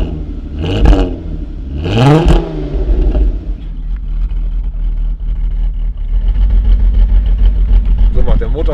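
A stock VW Golf GTI R32 engine starts with a loud rising crank, revs twice through its standard exhaust, then drops to a rumbling idle with clatter, up close, with people speaking over it.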